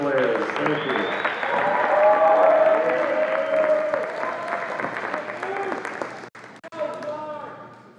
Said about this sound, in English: Let's give a hand for all our esports players.